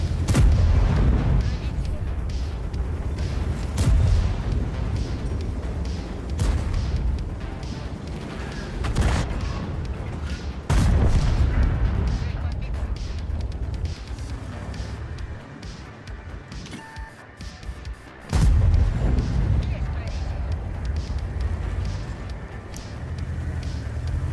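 Artillery shells firing and striking a tank in World of Tanks, with heavy booms and impacts at irregular intervals, loud against a rumbling game background.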